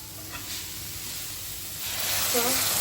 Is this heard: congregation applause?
no